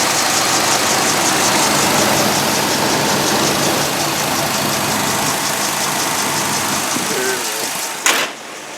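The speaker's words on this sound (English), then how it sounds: "you can hear the engine on startup. With the fuel injection, there's no delay, no nothing." Fuel-injected engine of a 1989 Jeep Grand Wagoneer running at a steady idle, loud and close, with a brief clunk near the end.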